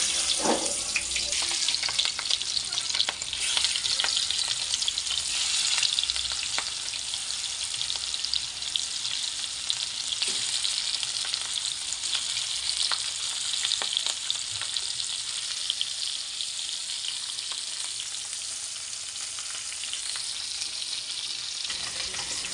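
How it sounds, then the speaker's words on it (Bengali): Pieces of hilsa fish fry in hot oil in a kadai with a strong, steady sizzle and bubbling crackle, broken by occasional taps and stirring sounds. "এবারে এগুলোকে মাখিয়ে আমি কড়াইতে ভালো করে ভেজে নেব।"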